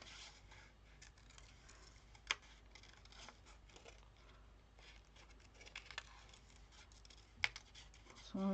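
Scissors snip around printed stickers to leave a thin white border. The cuts are faint, sparse and close, with a few sharper clips standing out over a quiet room background.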